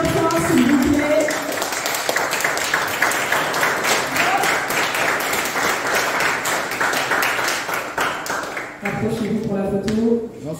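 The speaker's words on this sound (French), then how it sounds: "Félicitations et applaudissements bien fort, s'il vous plaît." Loud, dense applause from the audience at a powerlifting meet's prize ceremony, continuous for about ten seconds, with people talking at the start and end.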